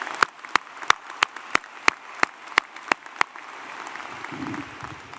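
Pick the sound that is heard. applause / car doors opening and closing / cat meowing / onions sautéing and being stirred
applause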